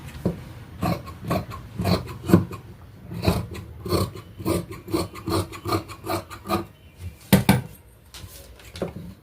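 Scissors cut dress fabric in a straight line, giving a close series of rhythmic rasping snips that come in steady bursts with short gaps, and no one speaks.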